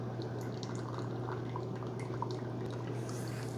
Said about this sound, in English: it tells me on my tablet it's brewing a rinse pod